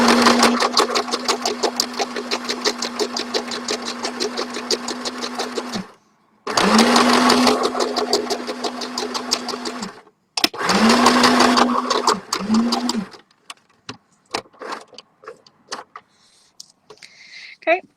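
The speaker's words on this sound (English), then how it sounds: "I'm just turning it around and sewing up the other side." A sewing machine stitching a tie-dye fabric square into a shopping bag, running in long steady whirring bursts with short pauses between, followed by quieter handling sounds of the fabric.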